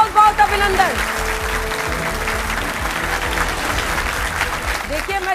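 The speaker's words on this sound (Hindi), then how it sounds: "तालियों के साथ आप सभी का बहुत बहुत अभिनंदन।" Studio audience of a Hindi TV debate show applauding to welcome the panel of guests, a steady dense clapping wash throughout with voices and background music tones beneath.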